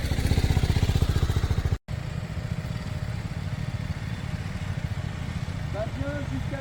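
A motorcycle on a riding-exam course runs with a rapid, chugging engine pulse that drops off briefly and then picks up again as it is revved, close and prominent, with a voice speaking over it.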